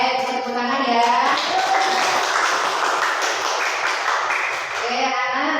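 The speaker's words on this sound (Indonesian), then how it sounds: "Bisa tepuk tangan ya." Children in a classroom clap together at the end of an elementary science lesson on shadows, a steady burst of many small hands that fades near the end, with a teacher's voice audible before and after.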